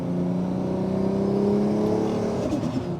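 A Nissan R34 GTR V-Spec street car drives with a steady engine drone and a rising whine, loud and close, the note shifting near the end with no one talking.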